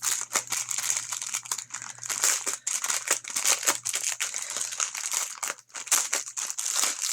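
Paper crinkles and crumples up close in rapid, uneven bursts while a diamond painting kit is unboxed. The crackling is soft but continuous, with brief pauses between handfuls.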